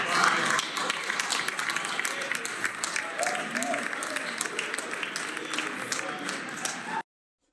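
Sustained audience applause with dense, steady clapping for about seven seconds, a few voices faintly mixed in, then it cuts off abruptly.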